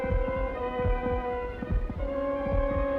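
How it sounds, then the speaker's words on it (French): A heartbeat sound effect from the film The Tell-Tale Heart, where a killer is haunted by his victim's heart, gives deep, regular double thumps over a low sustained hum, with no voices. "un tueur est hanté par le bruit des battements de cœur de sa victime"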